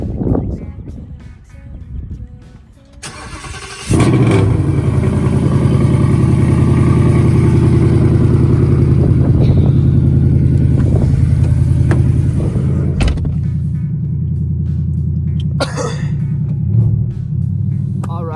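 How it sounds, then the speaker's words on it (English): A 2019 Ford Mustang 5.0 V8 engine fires up and settles into a loud, deep, steady idle rumble close by as it warms up, with a brief voice heard before it starts. "as the car's warming up"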